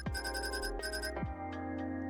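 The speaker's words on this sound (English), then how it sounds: "Hang on a sec, my friend's calling." Phone ringing in the video game Coffee Talk Tokyo, a close electronic ringtone with repeated pulsing tones over a soft musical background, no talking.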